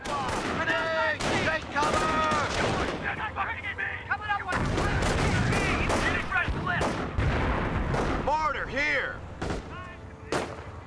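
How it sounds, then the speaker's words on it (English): Machine gun fire and explosions in the Company of Heroes battle for Hill 192, with dense continuous bursts and heavy booms in loud wartime chaos, and in-game voices shouting over the din. "Take out that machine gun out."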